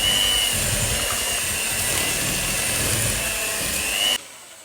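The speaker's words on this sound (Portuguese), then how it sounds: "Estou aqui com alguma dificuldade em controlar a minha batedeira." An electric hand mixer beating red velvet crinkle batter, a loud steady motor whine with rattling, running continuously before cutting off abruptly near the end.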